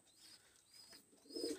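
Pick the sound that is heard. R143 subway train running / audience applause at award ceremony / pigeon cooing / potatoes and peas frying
pigeon cooing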